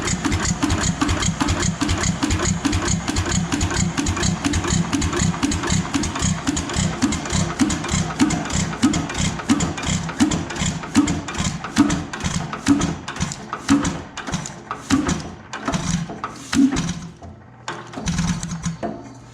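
Rebuilt Economy 5hp hit-and-miss style engine running: a steady rapid chuffing and thumping beat with exhaust pops and mechanical clatter, close and loud, gradually spacing out near the end, without talk.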